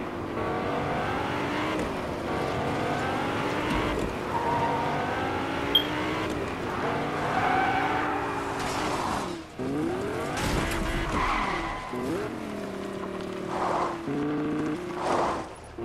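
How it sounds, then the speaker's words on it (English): A truck in the Fortnite video game drives with a revving engine that shifts pitch, with tire squeals and skids as it turns, steady and fairly close throughout. "What the heck did this truck come from?"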